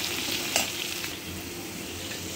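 Beetroot fry being stirred in a pan with turmeric and chili powder, a continuous sizzle with scraping strokes of the spoon against the pan, close and steady.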